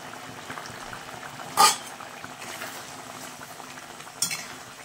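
Rasgullas are added to a simmering curry in a pan and stirred in. Low bubbling and simmering runs throughout, with two short sharp clinks of a utensil against the pan.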